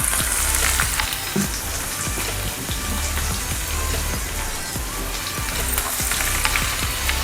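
Onion frying in hot oil with chillies for dal tadka, a loud, dense, rain-like sizzle that holds steady throughout with occasional stirring knocks.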